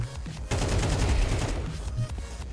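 Rapid bursts of AK rifle fire in Counter-Strike 2 on the new Mirage map, a loud, dense volley of close shots that thins into a few scattered cracks near the end, with no talking.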